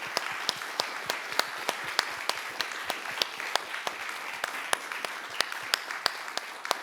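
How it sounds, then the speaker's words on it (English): A conference audience at a 40-year anniversary event breaks into a warm round of applause for a guest speaker: dense, even clapping from a large crowd that continues steadily throughout. "please join me in a warm round of applause for Professor Thomas Sterling"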